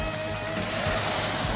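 Steady seaside wash of waves on the shore, a continuous broad rush with no distinct breaks, heard close with no voices.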